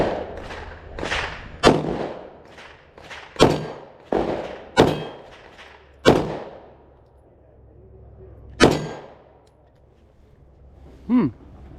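A PSA Dagger compact 9mm pistol fires about ten sharp, close shots in an uneven string with short pauses, then one last shot after a longer gap; no talking.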